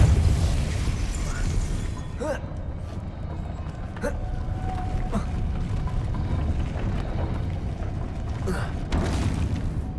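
Spell blasts from the Depulso charm in the video game Hogwarts Legacy burst out three times as sharp booming thumps over a constant rumbling, creaky game ambience, with no talking.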